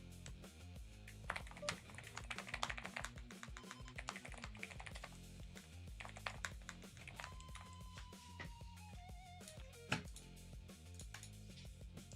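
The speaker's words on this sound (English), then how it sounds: "The new keyboard is so nice, and it sounds great, but I'm really struggling to get used to typing on it." Rapid, uneven clicking and tapping of typing on a new computer keyboard, keys struck close by in quick irregular bursts with a few louder clacks, alongside faint background tones and no talk.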